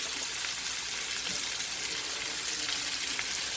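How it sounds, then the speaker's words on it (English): Chopped large onion drops into a hot stir fry of shrimp, chicken and vegetables, giving a loud, continuous broad sizzle close by with no one speaking. "I'm going to go ahead and put that large onion in there."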